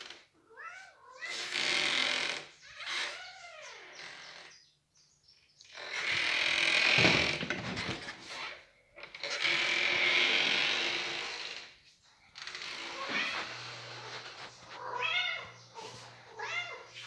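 A pet cat meows repeatedly at a door in the early morning, asking to be let in; several drawn-out, rising-falling cries come close and fairly loud, separated by short pauses, with a faint bird chirp near the end.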